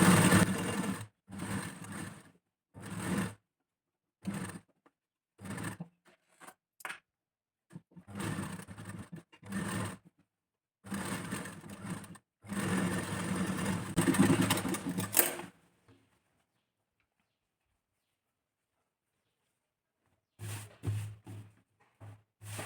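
Sewing machine stitching a blouse neckline lining in short close bursts of motor whir separated by pauses, with a long silence before two final brief runs.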